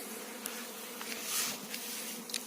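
Steady, dense buzzing of many honey bees close by at a hive swarm in an apiary, a continuous drone with a few individual insects flitting past.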